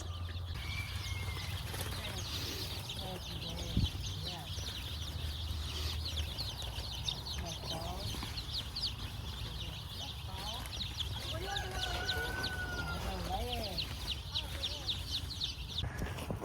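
Chickens on a chicken farm cluck and murmur in a busy flock, steady background clucking with occasional louder calls, people faintly talking nearby.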